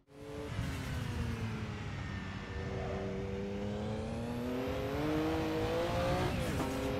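The engine of a Porsche 962C race car in the Assetto Corsa racing game roars close and loud on the Nordschleife, its pitch rising steadily through the gears with a quick shift near the end and no talk over it.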